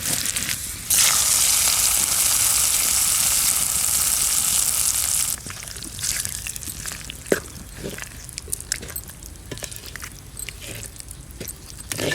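Loud hissing sizzle as tempering for mango dal hits hot oil, fading after a few seconds into softer crackles and sharp pops.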